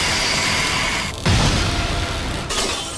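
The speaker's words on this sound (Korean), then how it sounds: "목숨을 걸고 모든 길을 폭발시킵니다." A sudden low, rumbling blast breaks through a steady roar partway in, shattering outward and lingering as a loud churning wash before cutting off sharply near the end.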